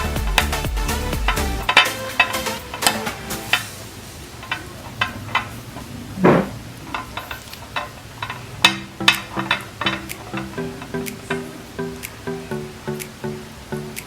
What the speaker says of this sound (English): Let's stir it more.